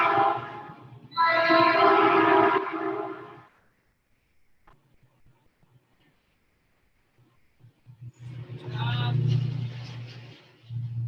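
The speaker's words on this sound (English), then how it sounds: "There's the train." A passing train rumbles through during an outdoor exercise session, its horn sounding in loud bursts at the start and again near the end with a quiet stretch between, while a person speaks over it.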